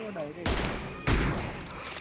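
In a battle royale video game, two loud bursts of rapid gunfire ring out close by, each with a sharp onset and a lingering echo.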